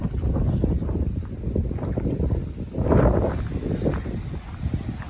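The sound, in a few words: strong wind at a coastal campsite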